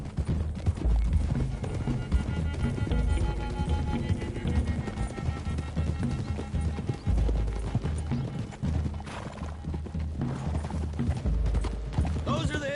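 Horses' hooves clip-clop at a steady run in Red Dead Redemption 2, with mechanical rattles and occasional whinnies in a dense game mix, continuous and fairly loud.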